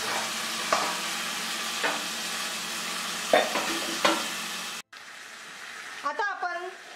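Konkani-style pomfret fries on a tawa, sizzling steadily with several scraping stirs before the sound cuts off abruptly; a brief voice follows over a quieter background.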